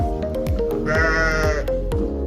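Sheep and lambs at Mother Farm in Chiba, Japan, bleat loudly and close by, with one long wavering cry amid a steady clatter of rhythmic clicks.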